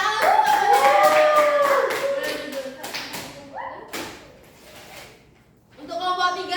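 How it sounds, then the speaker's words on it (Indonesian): Students in a microteaching classroom clap for a classmate in a quick, uneven patter mixed with excited voices. It then gives way to quieter taps and talking. "Oke, tepuk tangan untuk temennya."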